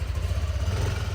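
A new Yamaha NMAX motor scooter running steadily at close range, a low throbbing engine tone with a faint mechanical clatter and no talk.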